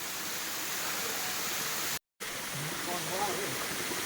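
Bukit Perdana waterfall pours in a steady, even broadband rush, close and continuous, broken by a brief cut near the middle; faint voices come through under the water.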